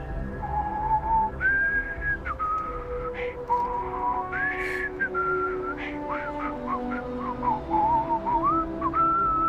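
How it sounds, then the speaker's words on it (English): A character in the Starfield video game whistles a wandering, off-key tune, clear and close, with short pauses between phrases over a quiet background. "You're a bad whistler."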